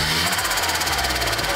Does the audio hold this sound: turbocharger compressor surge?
yes